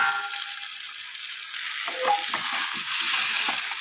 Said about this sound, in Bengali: এঁচোড় আর আলুর সাথে ভালো করে কষিয়ে নেব